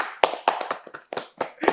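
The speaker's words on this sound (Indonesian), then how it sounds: "Tepuk tangan dulu dong." A small group claps at a podcast recording, a short burst of about eight sharp, fairly close hand claps in an uneven rhythm.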